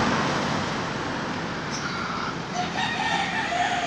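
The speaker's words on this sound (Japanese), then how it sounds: "鶏が鳴いて犬が走って" A rooster crows at dawn near a residential business-park area in Cebu City, Philippines, set against steady roadway traffic noise and broad outdoor ambience, with no talking.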